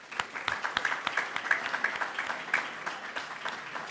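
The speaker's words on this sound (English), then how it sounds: "Round of applause, please" Moderate applause with distinct individual claps from a modest crowd at a town board meeting, honoring girls indoor track section champions, steady and fairly close throughout.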